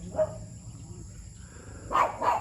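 Guard dogs at a remote rural home bark in two or three short bursts, moderately distant, with a steady background hum between them.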